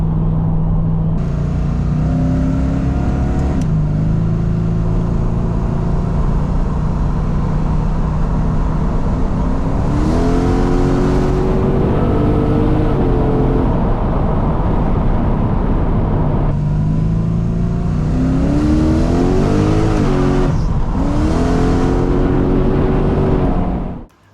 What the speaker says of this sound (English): we've just been for a drive, as you saw